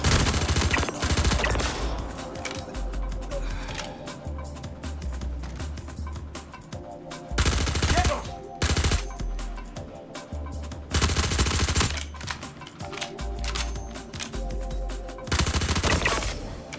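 Rapid bursts of suppressed fire from a Behring P4-AR rifle in Star Citizen, several sustained volleys of sharp cracks separated by brief pauses with low mechanical rumble between them.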